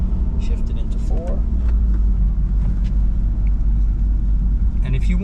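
Manual transmission car engine droning steadily after a shift into fourth gear, a constant low rumble with light interior clicks, up close and loud.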